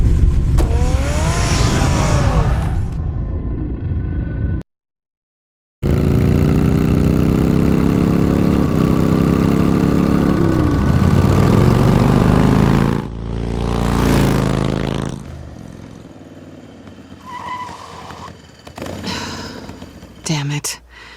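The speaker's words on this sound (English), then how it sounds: "Get the car ready, Alfred." A car engine in Batman: The Telltale Series hums and revs steadily with rising and falling tone, broken by a brief silent gap, then fading into other game sounds and faint voices near the end.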